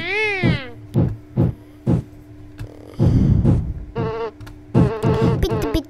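Fly buzzing in the video game Tasty Planet, short repeated game sound effects with brief whining, chirpy tones, loud and close, alternating with gaps.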